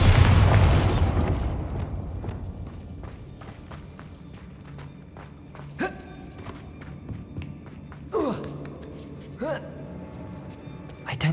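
The Bombarda explosion spell goes off in the video game Hogwarts Legacy with a heavy boom at the start that fades away, followed by scattered game effects, a few sharp bursts and footsteps.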